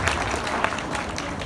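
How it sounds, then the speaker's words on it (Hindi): Applause from a class audience, many hands clapping together in a dense, steady patter with a few sharper individual claps standing out, fairly loud and without talk. "तालियां बजा लें एक और मरतबा अपने लिए"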